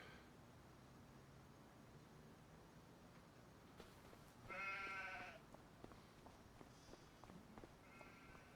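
Sheep bleat in a Farming Simulator 25 pen, with one louder, fairly close bleat midway and fainter calls later. They sit over a quiet, low background with scattered soft clicks.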